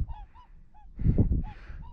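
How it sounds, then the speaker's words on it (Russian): Swans call from the last spring ice on a lake, a few short nasal honks at middle distance, grouped together over faint background noise with no talking. "Лебеди, лебеди и лебеди."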